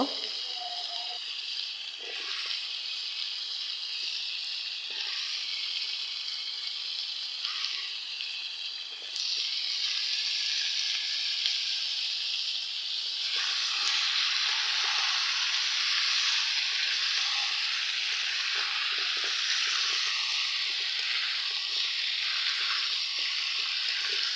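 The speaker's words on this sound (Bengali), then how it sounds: "আমি দিয়ে দিলাম মিষ্টি লাউ। তো তরকারিটা একটু ভালোভাবে কষিয়ে নিব" Sweet pumpkin and shrimp curry sizzles steadily as it is sautéed in a pan, a loud continuous frying hiss that grows denser partway through, with occasional stirring scrapes and no talking.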